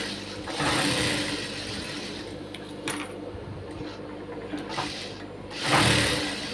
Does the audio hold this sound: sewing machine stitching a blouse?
yes